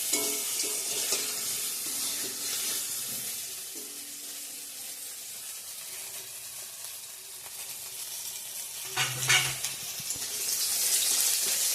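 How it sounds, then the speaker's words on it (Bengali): Onion, dried red chili, bay leaf, ginger and whole white cumin fry in hot oil as a Bengali tempering, giving a steady close sizzle with occasional stirring and a short clatter of utensils near the end. "এখানে ফোড়ন দিয়ে দিয়েছি পেঁয়াজ শুকনো লঙ্কা তেজপাতা আদা আর হচ্ছে সাদা জিরা গোটা"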